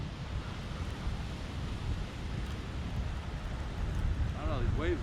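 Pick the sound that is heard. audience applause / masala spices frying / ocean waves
ocean waves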